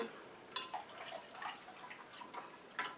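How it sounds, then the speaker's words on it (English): Liquid trickles and drips as glycerin and boiled distilled water are poured into a larger container, a quiet, close sound of small irregular splashes and drips. "I'm just going to pour my glycerin into a larger container and add my boiled distilled water."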